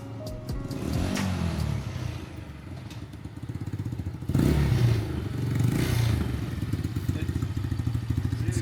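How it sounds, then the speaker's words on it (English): A Chinese motorcycle engine, revived on a makeshift found battery, idles and revs with a rough, rattling putter that swells midway, close by with some clatter and no talking over it. "See here that the bike is running with a battery we just found."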